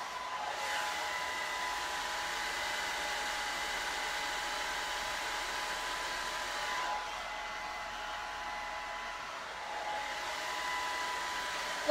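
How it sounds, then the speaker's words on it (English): A hair dryer blow-drying curly hair runs as a continuous, even whirring hum with a slight shift in tone midway, close and steady, with no talking. "I continue to blow dry"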